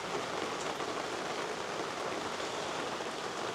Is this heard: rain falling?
yes